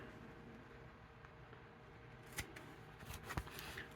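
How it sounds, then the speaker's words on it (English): Scissors snip the corner pieces of a sewn fabric project, giving two or three quiet, crisp cuts near the end after a stretch of near-silent room tone. "you're going to snip each of the corner pieces"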